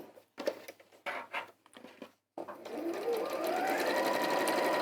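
A sewing machine runs steadily, stitching in the ditch along a quilt border, with the whir rising to a continuous run after a few short stop-start bursts.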